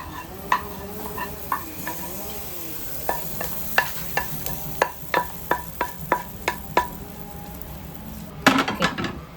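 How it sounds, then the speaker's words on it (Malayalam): Roasted sesame is mixed into batter with a spoon that knocks rhythmically against the bowl, a run of about a dozen crisp clinks over soft sizzling, ending in a quick flurry of scraping. "അപ്പോൾ നന്നായിട്ടൊന്ന് മിക്സ് ചെയ്ത് കൊടുക്കാം."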